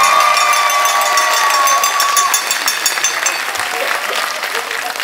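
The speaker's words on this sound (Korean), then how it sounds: "박수 한번 뜨겁게 한번 쳤습니다." Dense, sustained audience applause fills a live public broadcast event marking a channel's tenth anniversary, loud and steady throughout, with a thin whistling tone over it early on that fades midway.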